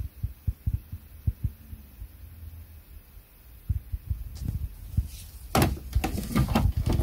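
Ticking and soft thumping from the pump of a Glowworm Flexicom 30CX boiler as its PCB puts power to it with an F9 fault, a series of low clicks followed by a rising hum and louder knocking toward the end.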